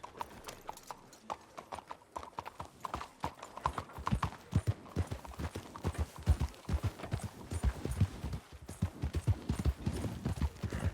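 Horse hooves clop steadily in a continuous trotting rhythm in the video game Red Dead Redemption II, close by, with faint background noise and no talking.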